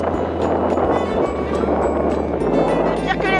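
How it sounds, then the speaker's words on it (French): Strong headwind roars steadily into the microphone of a cyclist riding in the Pamir mountains, a loud, constant buffeting rush with no pauses. "on n'avance pas parce qu'on se bat contre le vent"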